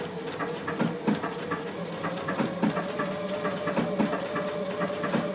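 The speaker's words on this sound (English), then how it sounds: "when I stitch, I'm just going to keep the edge of the fabric riding right against that guide" A JUKI sewing machine stitching fabric for a rounded face mask, a steady rapid needle chatter with rhythmic mechanical ticking, moderately quiet and continuous, no voices.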